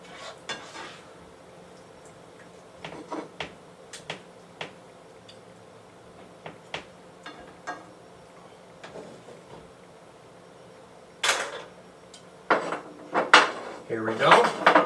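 Chicken, mushrooms, stuffing and celery stirred in a pot, scattered light clinks and scrapes of a utensil against the pot, growing louder and busier toward the end.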